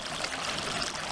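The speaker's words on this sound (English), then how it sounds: "The 2016 version of our Royal Lion Fountain features a strong water flow at top." Water pours continuously from the 2016 Royal Lion Fountain, a tiered fountain with a strong flow at the top, making a steady, even rush of splashing water at moderate level with no voices.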